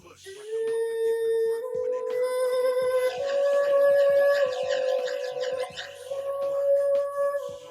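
Saxophone recorded in a studio for a song, a loud sustained melodic line with slowly bending pitch, played over a rhythmic backing beat.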